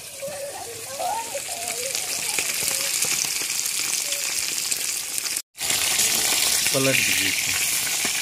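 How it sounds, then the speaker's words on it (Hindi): Fish pieces frying in hot oil in a kadhai outdoors in a village kitchen, a steady loud sizzle and bubbling throughout, with people talking briefly over it. "देखिए बड़ा वाला तल रहे हैं।"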